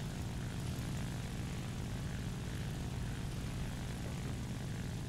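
Steady, droning propeller engine of a BV 141 airplane in flight in War Thunder, a dense continuous roar heavy in the low end holding at even loudness throughout with no voices.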